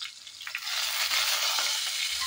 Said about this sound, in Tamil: இந்த வெங்காயம் இந்த வறுத்தர்லேயே பச்சை வாட போகிற வரைக்கும் நல்லா வதக்கிக்கலாம்.